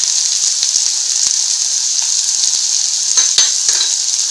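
Potato curry with turmeric sizzles loudly in a pan, a steady bright crackling hiss broken by occasional scrapes and taps of a spoon stirring it.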